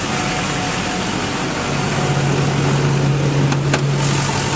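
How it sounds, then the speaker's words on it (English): A 6.6-litre diesel engine in a 2005 Chevrolet Silverado 3500 pickup idles continuously, a smooth rumble with a faint hum layered on top, close by and fairly loud throughout. "under the hood, a nice clean engine bay running very smoothly"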